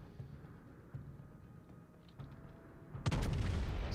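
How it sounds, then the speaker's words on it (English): A torpedo hit on a battleship in the World of Warships naval video game: a sudden loud, broad blast bursts in near the end after quieter low rumbling, then holds as a dense roaring impact. "There you go, there's the torpedoes, and he actually got a hit with one of them."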